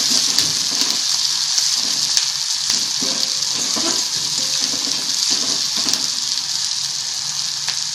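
Onion sizzling steadily in a hot pan for a peanut-based vegetable dish, a continuous close, loud frying hiss with faint crackles throughout.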